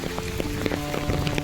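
Rain falls on a village road, a steady patter with scattered distinct drops landing close by. It is continuous and moderately soft, with no voices.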